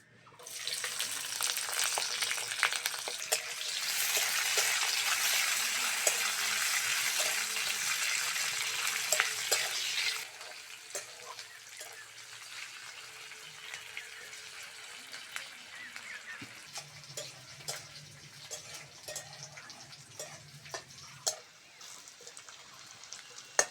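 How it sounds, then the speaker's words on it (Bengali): Onion and green chilies frying in oil for a greens stir-fry, with a loud, dense sizzle for the first ten seconds that settles into a quieter crackle with scattered sharp pops and clicks. "পেঁয়াজ কাঁচা লঙ্কা ভালো করে ভেজে নিয়েছি"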